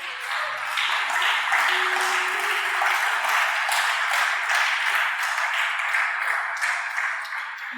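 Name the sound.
congregation applauding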